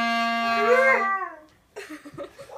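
A dog howls along in a long rising and falling tonal wail, close and loud, followed after a brief pause by softer yips and whimpers.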